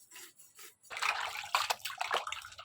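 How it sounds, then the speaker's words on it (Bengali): Freshly scaled fish are washed by hand in water, with soft splashes and trickling that grow busier and louder after a quiet opening and continue in irregular sloshing bursts. "তো মাছগুলোকে এখন ভালো করে ধুয়ে নিয়েছি, এখন ধোয়া হয়ে গেছে সুন্দর করে।"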